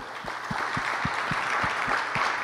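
An audience at a Christian speaking event applauds with steady, moderately faint clapping over a soft, regular low thumping.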